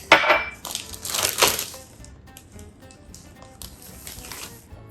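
Steak pieces coated in dry rub go into a resealable plastic bag, giving close crinkly plastic rustling in two bursts over the first two seconds, then quieter handling noises.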